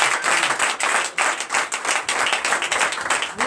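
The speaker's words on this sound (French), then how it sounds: "Donnez encore des acclamations." Church congregation clapping and applauding during a Sunday worship service in Comè, Benin, a dense, steady burst of many hands close and loud throughout, with no talking.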